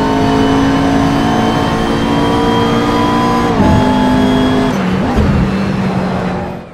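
A race car lapping a track in Assetto Corsa roars loud and close with a sustained high engine whine, then drops pitch sharply twice as it brakes and downshifts before the sound starts to fade.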